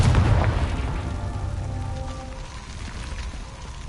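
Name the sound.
Confringo fire blast spell in the video game Hogwarts Legacy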